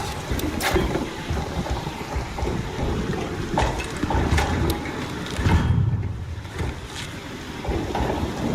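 Thunderstorm with lightning in the game ARC Raiders: a steady wash of rain and wind rumbles throughout, with sharp cracks of thunder breaking through and a heavier rolling boom near the middle.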